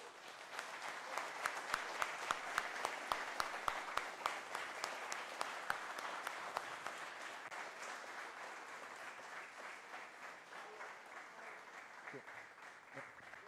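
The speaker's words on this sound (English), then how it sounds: "My applause is to you guys for being here." An audience at a B-Sides Puerto Rico security conference keynote claps steadily, a dense crowd of hands that starts out strong and slowly thins to a softer patter over several seconds.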